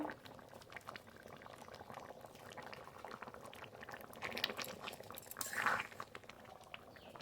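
Jackfruit and prawn curry simmers in a pot with a steady bubbling boil, soft liquid pops and gurgles throughout, swelling briefly louder near the end, no voices.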